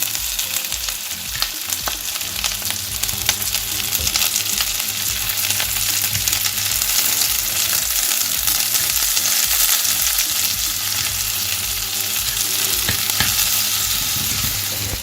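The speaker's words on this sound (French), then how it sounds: "Là, maintenant, on va tourner les oignons." Onions frying in a pan for a Cajun-style fried chicken burger, a loud continuous sizzle with steady scraping and clattering as they are stirred, close up and without talk throughout.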